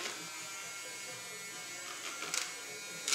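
An electric paint mixer whirs steadily inside a bottle of Model Master paint, a thin continuous buzz held close, with a couple of brief scraping bumps near the end.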